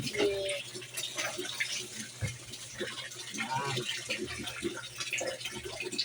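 Water splashes and pours steadily over a pet dog during an outdoor bath, a continuous close wash of running, gushing water with scattered soft knocks and occasional talk underneath.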